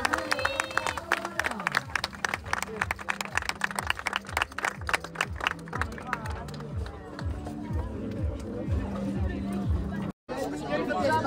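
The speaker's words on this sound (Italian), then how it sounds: "Siamo pronti per un bel applauso spontaneo?" A crowd claps and cheers at a lively street gathering in Catania, Sicily, celebrating Aurora. Dense, steady clapping runs throughout under loud chatter and background music, with a brief dropout near the end.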